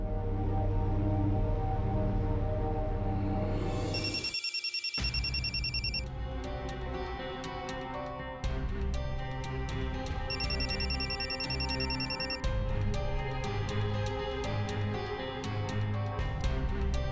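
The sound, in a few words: telephone ringing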